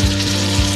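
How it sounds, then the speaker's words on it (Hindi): A loud, steady sizzle comes from butter heating in a pan, a dense close crackle with a low hum beneath and two faint soft thumps. "इधर मैंने मक्खन को गर्म होने के लिए छोड़ दिया है।"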